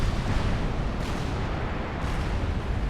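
Artillery shells pound targets in Supreme Commander as a dense, continuous rumble of impacts, with sharper hits about a second apart and no talk.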